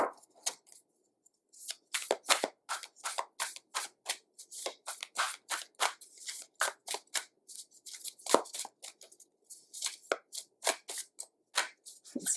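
Tarot cards being shuffled by hand, close and crisp, in repeated quick riffling bursts separated by brief pauses, with no talking.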